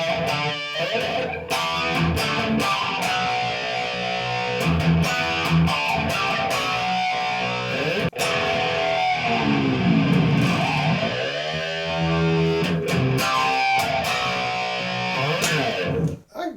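An electric guitar played through a Chaos Audio Stratus flanger with room reverb, ringing chords and notes with a sweeping, swirling jet-like shimmer and a roomy tail, played alone.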